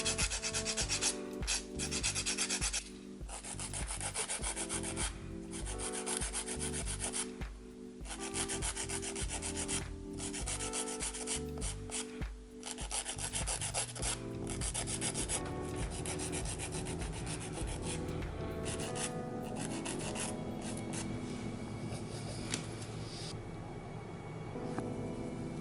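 Fingernails being filed with a nail file during an at-home cat eye manicure, a steady close rasping rub that keeps up without pause, with no talking.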